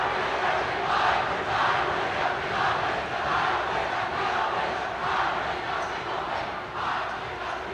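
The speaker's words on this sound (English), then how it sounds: "Listen to the crowd." Crowd noise from a high school boys basketball game in a packed gym, a steady loud roar of cheering and chatter held at near-constant level throughout.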